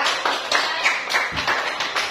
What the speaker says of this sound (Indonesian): Coba tepuk tangan dulu ya.